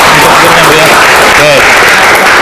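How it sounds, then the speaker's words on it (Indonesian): Applause from students in a university classroom lesson, dense and loud throughout, with faint voices mixed into the clapping. "kasih tepuk tangan ya"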